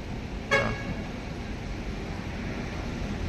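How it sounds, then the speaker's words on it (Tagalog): A single short vehicle horn toot sounds near the start at a construction site, brief and moderately loud over a constant wind-like outdoor rumble. "Busina ata siya."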